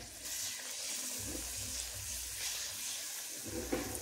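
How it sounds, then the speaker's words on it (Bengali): Mung dal jalebi batter frying in hot white oil gives a steady, soft bubbling sizzle, fairly faint and close, with no voices. "তো জাস্ট এইভাবে দিয়ে আমি সবগুলো জিলাপি সুন্দর করে ভেজে নেব।"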